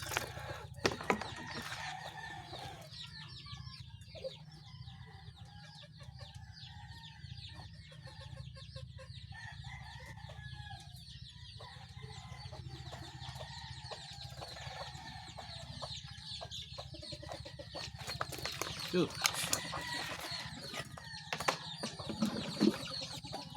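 Backyard pet chickens cluck continuously at close range, a busy chatter of soft clucks and calls running throughout over a low steady hum.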